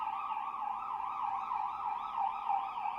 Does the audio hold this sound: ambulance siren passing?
yes